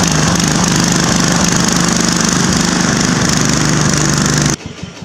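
A Husqvarna riding lawn mower engine idles steadily and loudly up close with a constant rough drone, then cuts out abruptly near the end, leaving faint background noise.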